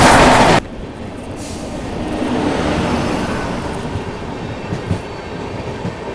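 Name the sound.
Jaynagar Pawan Express train passing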